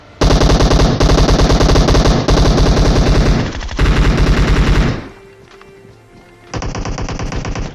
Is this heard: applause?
no